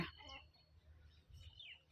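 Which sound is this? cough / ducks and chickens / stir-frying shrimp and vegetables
ducks and chickens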